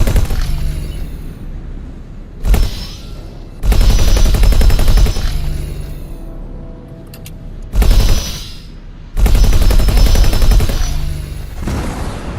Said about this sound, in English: Oh, they're actually shooting at us.